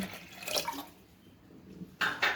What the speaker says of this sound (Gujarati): દાળ ડૂબે એટલું આપણે પાણી લઈ લઈશું.